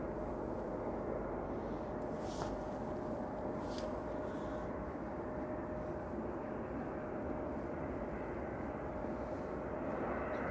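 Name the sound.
Ryanair Boeing 737-800 from Paris Beauvais touching down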